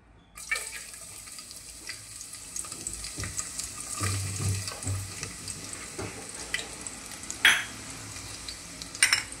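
Finely chopped garlic dropped into hot oil in a pot for an Indo-Chinese dish, a soft continuous sizzle with scraping stirs and a few clinks, no talking.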